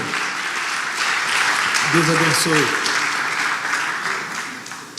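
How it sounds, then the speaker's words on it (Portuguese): Congregation applauding at an evangelical pastors' union convention in Rio de Janeiro, a steady wash of clapping throughout while someone speaks over it. "Aplauda o Senhor pela vida deles"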